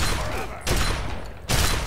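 Two loud gunfire bursts from the video game Fallout 3 crack out about a second apart, each followed by a sustained noisy wash, with no talk.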